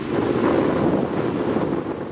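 Stormy wind roars over the microphone with the wash of big waves at the Antalya marina breakwater, a continuous loud broadband rush without distinct breaks.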